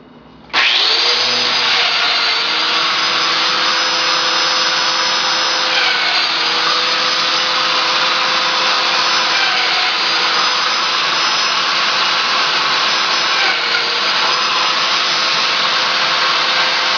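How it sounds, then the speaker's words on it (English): A Festool Domino joiner on its narrowest setting cuts mortise slots for a shelf, starting abruptly and then holding a loud, steady high-pitched whine with a faint underlying motor hum, running close by without pause. "Dominoes on the narrowest setting, and I'm just going to mortise these slots here"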